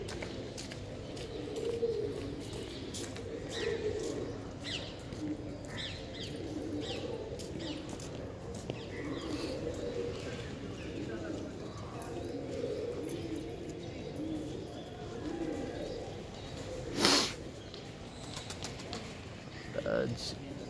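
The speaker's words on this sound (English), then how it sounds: "Birds." Pigeons coo softly in the background at the Jaipur City Palace in India, low murmuring calls mixed with chirps and a brief wing flap, under steady ambient noise and nearby voices.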